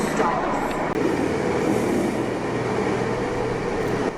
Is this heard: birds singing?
no